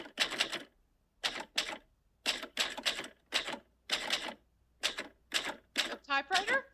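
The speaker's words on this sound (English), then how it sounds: "A typewriter?" A typewriter plays as a sound effect, with clusters of crisp key strikes in short bursts separated by silent pauses and a brief ratcheting carriage sound near the end, fairly faint and without talk over it.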